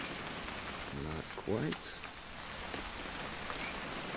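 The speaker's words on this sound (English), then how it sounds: "It's gonna rain the whole weekend, isn't it?" Steady rain pattering on surfaces in the video game What Remains of Edith Finch, a constant soft hiss of falling drops beneath brief voices speaking.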